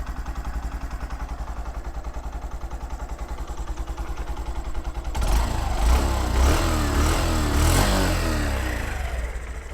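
A Honda Shine 100 DX motorcycle engine idling with a steady low chugging throb, then revving up into a louder, rougher roar that lingers before easing back.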